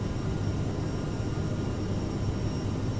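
A CRJ-700 regional jet climbing out in Microsoft Flight Simulator gives a steady, dense engine rumble and airflow roar that stays even throughout the short stretch.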